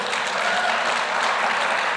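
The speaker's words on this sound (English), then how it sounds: "please give a big applause to the facilitator who wrote a letter of recommendation for you" Applause fills a 2024 graduation ceremony for a facilitator, a brief, even wash of many hands clapping close and loud.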